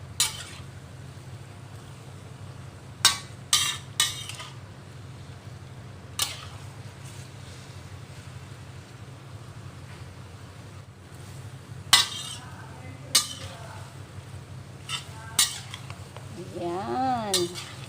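Spaghetti aglio olio stirred in a pan, scattered metallic clinks and scrapes of a utensil against the pan over a steady low hum, close, with a brief soft sizzle near the end.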